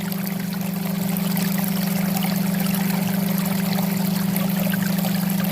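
A clear mountain stream in the Spiti Valley rushes in a steady, dense wash with a constant low drone beneath it, close and fairly loud throughout.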